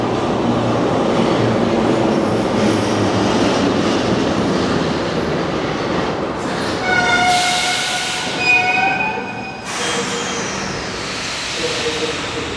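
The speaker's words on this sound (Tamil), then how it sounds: "ட்ரெயின் வந்துடுச்சு." An old train rumbles and clatters loudly as it rolls into a last station in Russia, with a brief horn-like tone and squealing brakes partway through as it slows.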